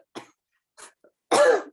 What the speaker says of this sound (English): Before I cough